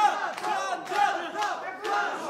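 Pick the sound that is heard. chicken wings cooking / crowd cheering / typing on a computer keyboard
crowd cheering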